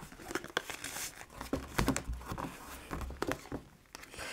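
Double wall cardboard box sides being folded in, giving a run of close crinkling, creasing and scraping cardboard sounds in irregular bursts.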